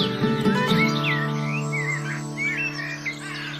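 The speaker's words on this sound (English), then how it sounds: "you can hear the place is just full of birds" Many birds sing and chirp around a spring pond, a dense overlapping chorus of warbling calls close by with a steady hum beneath.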